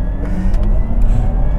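A Porsche Taycan electric sports car launching hard with launch control, a steady loud rush of road and drivetrain noise that holds for the full moment, with no voices.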